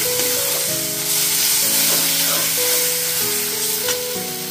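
Ivy gourd frying with salt in a pan, a broad steady sizzle and hiss with faint stirring, partly covered by loud melodic background music.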